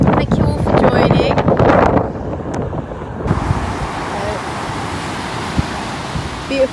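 Rough sea waves crash and surge on the Tenerife coast while strong wind buffets the microphone, loud and close, with a voice speaking briefly at the start.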